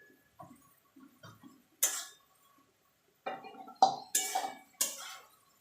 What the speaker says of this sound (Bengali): এটাকে নাড়াচাড়া করে নেব।